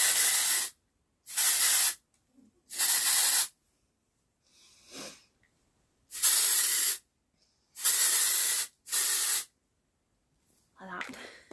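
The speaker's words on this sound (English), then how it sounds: "I'm just gonna use my texture spray." Texture spray hisses onto hair in several short, strong aerosol bursts separated by silences, close and loud, with a faint quieter hiss between them.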